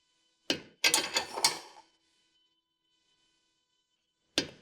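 A wrench works the lock nut on a sway bar link of a 2015 Ford Explorer, giving a short burst of metallic ratcheting clicks, then silence, then one more sharp click, close and clear.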